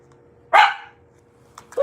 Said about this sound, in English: What do you do with a dog like this?